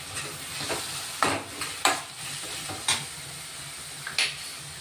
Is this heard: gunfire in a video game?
no